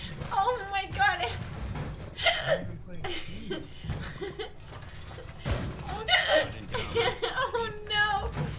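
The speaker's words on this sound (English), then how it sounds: "The hiccups." A streamer hiccups several times amid chuckling and laughter, short abrupt catches scattered through lively talk and giggles.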